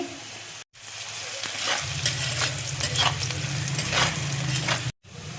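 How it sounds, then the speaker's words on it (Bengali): Chopped onion and salt fry lightly in a pan with a steady close sizzle. Stirring scrapes run through it, and the sound cuts out briefly near the start and end. "খুব বেশি একটা ভাজবো না, হালকা করে দেখো আমি ভেজে নেব।"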